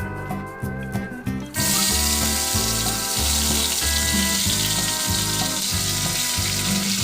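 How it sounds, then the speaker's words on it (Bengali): Papaya pieces marinated with salt, turmeric and Kashmiri chili drop into hot oil, starting a loud, steady sizzle after a short stretch of quieter kitchen noise, then frying continuously and close by. "এবার এটা ভাজতে হবে।"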